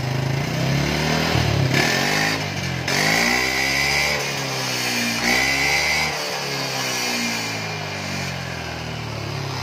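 A Yamaha Lexi scooter engine fitted with a custom exhaust revs steadily up and down, loud and close, with a crisp, raspy exhaust note and no talking.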